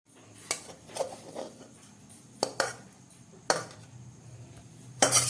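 A pot of vegetarian potato curry is lifted off a kitchen stove, giving a few scattered metallic clanks and clinks of cookware against a quiet background, with no talking.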